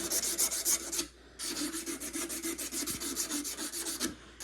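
A wooden longbow tip is sanded by hand with 180 grit cloth-backed DA sandpaper, a close, rhythmic rasping of quick back-and-forth strokes with one short pause.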